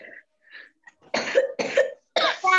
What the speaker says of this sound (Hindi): जिसको भी खांसी आ रही है अपना माइक प्लीज बंद कर ले